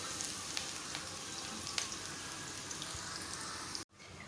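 Onions frying in oil until golden brown: a soft, steady sizzle with scattered small pops that cuts out briefly near the end.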